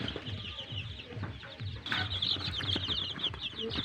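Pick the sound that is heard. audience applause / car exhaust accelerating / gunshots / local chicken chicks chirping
local chicken chicks chirping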